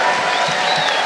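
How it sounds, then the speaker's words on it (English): Audience at a Pittsburgh exhibition fight night applauding, a dense burst of clapping from a crowd, loud and continuous throughout the brief moment. "Round of applause for wives."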